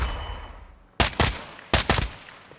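An FTAC Recon rifle in Call of Duty Modern Warfare II fires two quick bursts of close, loud, sharp shots separated by a brief pause, with no voices.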